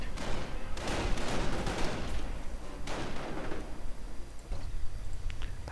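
Rapid gunfire and artillery-like bursts in a WWII real-time strategy battle, dense and continuous with heavy low rumble, surging in waves and fading briefly near the end.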